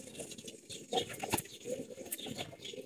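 Bezi pigeons cooing softly at close range, with short murmuring calls and light wing or foot pattering mixed with faint rustles.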